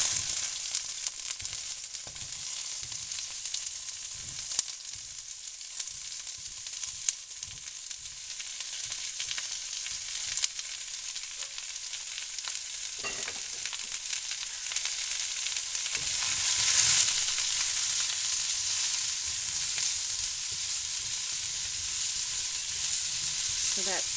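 Zucchini, mushroom and onion fry in a very hot pan, giving a steady broadband sizzle with occasional stirring clatter, growing louder and denser partway through as more vegetables go in, with no talking.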